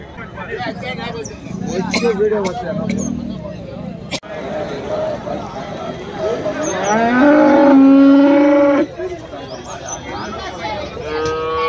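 A cow gives a long, loud moo amid a busy background of chatter and crowd noise at the Kundarapalli cattle market.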